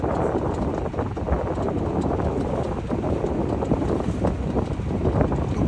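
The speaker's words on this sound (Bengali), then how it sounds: "বাতাসের বেগ এত বেশি যে" Strong wind over the Pashur River roars and buffets the microphone continuously, a dense rumbling gust noise with no other clear sounds.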